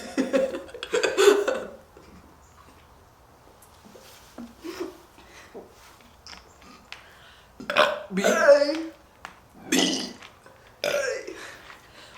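Several loud burps from young people taking part in a burping contest, spread across the clip in separate bursts with pauses between them, some long and gravelly, close to the microphone, with a little talk and laughter mixed in.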